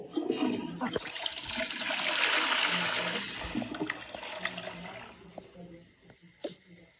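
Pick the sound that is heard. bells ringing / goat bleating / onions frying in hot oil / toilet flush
toilet flush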